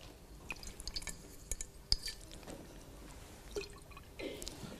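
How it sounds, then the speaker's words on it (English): A glass flask being rinsed with distilled water gives faint drips, small splashes and light glassy clinks, sparse and quiet at close range, with no talking. "And then I'm going to rinse this out with distilled water."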